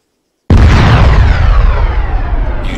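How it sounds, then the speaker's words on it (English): A quad bike blows up in a massive explosion in a video game: a sudden deep, loud boom after a short silence, then a long rumbling roar with crackling debris that slowly fades. "You detonate it, and that's what you get. Massive explosion."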